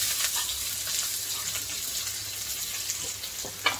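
Chopped onion hisses in a pan with garlic and ginger for an okra-and-pea gravy, giving a steady, soft sizzle with a few faint pops and clinks and no voices.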